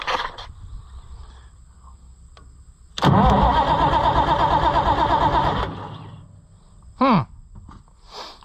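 A White 2-70 tractor engine cranks loudly for several seconds without catching, then falls quiet, followed by a short squeaky sound.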